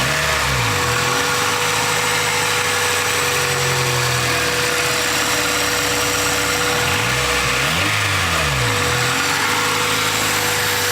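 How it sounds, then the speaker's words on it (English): Honda del Sol GSR engine idling through a loud cold air intake, a steady close droning rumble with a constant whine and slight wavering in pitch, no talking over it. "Hopefully you guys can hear me over the noise of that intake."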